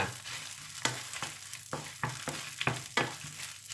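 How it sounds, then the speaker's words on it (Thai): Chilies frying in a pan of hot oil for tom yum goong, a soft steady sizzle broken by sharp scraping and stirring clicks that recur every half second or so, close and fairly quiet. "เราทอดแบบนี้นะคะพริกก็จะสุกเร็วแล้วก็หอมค่ะ"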